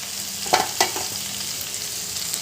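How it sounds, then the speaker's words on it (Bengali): Grated kohlrabi frying in oil with cooked-down spice paste, a steady close hiss of sizzling with a couple of sharp stirring clacks, no talk. "সব ওলকপিগুলো দিয়ে দিলাম এরপর ওলকপিগুলো দিয়ে ভালো করে কষিয়ে নেব"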